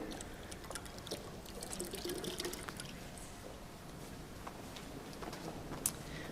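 Creek water poured out in a soft, continuous trickle and splash, fairly quiet and close, with small drips and gurgles throughout and no talking.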